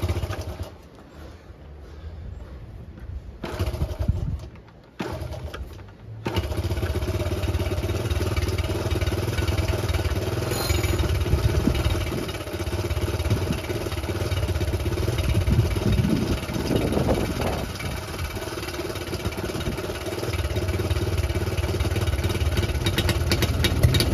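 A classic Honda Cub C70 motorcycle engine, not run since the 1980s, coughs and catches after a few false starts, then idles steadily with a slightly rough clattering note up close.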